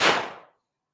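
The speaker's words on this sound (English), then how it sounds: "what happens if he puts his finger on the trigger and he's holding the hammer back, and now he lets go?" A revolver hammer released and snapping forward produces a single sharp, loud crack close by that decays within half a second into silence.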